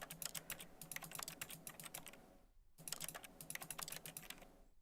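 Keyboard typing effect from the game The Stanley Parable: two bursts of rapid, crisp key clatter separated by a brief silence, close and fairly loud with no voices.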